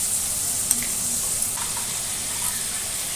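Cauliflower florets with a little salt stir-fried for fried rice over high heat, a steady close hiss of sizzling with a few faint utensil taps on the pan, no talking.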